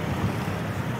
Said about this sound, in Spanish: Una noche con bastante viento